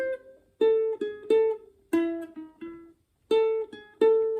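Ukulele gypsy jazz phrase built around a lower neighbor tone, played with swing: about a dozen clean plucked notes in short, bouncy groups with brief gaps, close and clear.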